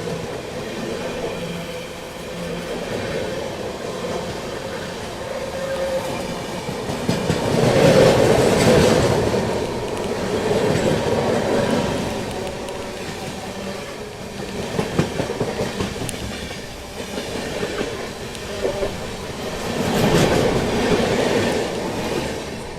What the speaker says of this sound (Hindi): चलिए दोस्तों ट्रेन अपनी स्किप करने जा रही है प्रयागराज जंक्शन को